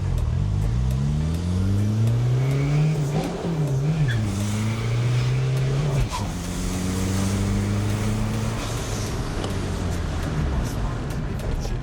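A Peugeot 306 turbodiesel engine, boosted to 2.8 bar, revs up through several gears, pitch climbing and dropping at each shift, loud and steady, with people talking briefly over it.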